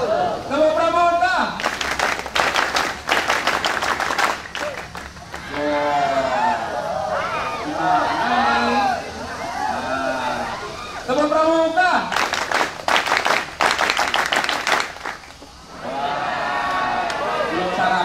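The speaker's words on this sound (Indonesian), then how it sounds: "Tepuk pramuka tahu? Tepuk pramuka!" Junior high school students perform the Indonesian scout clap at a school disaster-awareness event: two bursts of loud, rhythmic group clapping separated by a stretch of chanted voices, echoing in an open gathering space.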